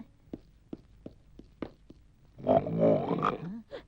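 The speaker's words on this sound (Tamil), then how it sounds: "இங்கதான் உருமல் சத்தம் கேக்குது புலி இங்கதான் பதுக்கி இருக்கணும்" A series of soft scattered taps gives way to a tiger's loud, rough growl that swells and fades, close and alone with no talk.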